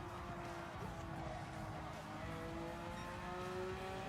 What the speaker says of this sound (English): You can hear those tires screech.